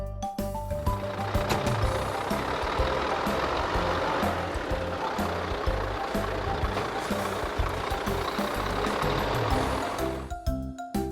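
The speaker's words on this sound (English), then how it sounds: "Garbage truck." A garbage truck works close by in a loud, dense wash of engine roar and mechanical noise that holds steady before cutting off near the end; the reversing beeps are not clearly picked out.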